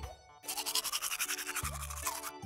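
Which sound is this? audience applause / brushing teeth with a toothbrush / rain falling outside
brushing teeth with a toothbrush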